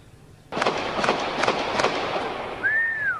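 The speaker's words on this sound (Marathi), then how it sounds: "गोळीबाराचा थेट आवाज आपल्याला इथं ऐकायला मिळतोय।" Gunfire from the Charlie Hebdo office attack in Paris rings out as a rapid series of sharp cracks echoing off the buildings, several shots in quick succession against a steady background rush, with a faint whistle-like tone near the end.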